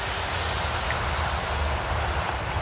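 An E-flite Turbo Timber Evolution RC airplane on a 3S battery roars at full throttle, a loud, steady, close electric motor and propeller drone that holds for a few seconds without talk.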